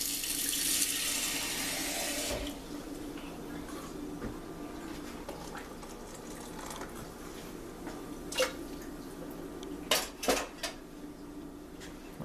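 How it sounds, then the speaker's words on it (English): Water runs from a tap for a couple of seconds, then stops, followed by quiet kitchen clatter and a few sharp clinks of utensils. "we're going to need to add a little bit of water"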